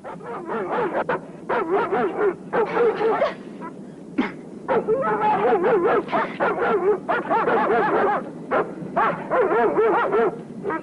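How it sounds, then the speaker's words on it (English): Several dogs set loose in a 1969 war film, barking, yipping and whimpering in rapid overlapping bursts, loud and nearly continuous with short breaks. "Set the dogs loose! Let's see what they can do."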